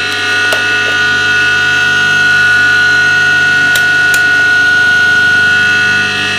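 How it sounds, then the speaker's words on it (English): A 2-horsepower electric motor idling off an inverter, giving a loud, steady electrical hum with a sustained high tone, broken by a few sharp clicks. "a normal electric motor 2-horsepower, what it consumes on idle"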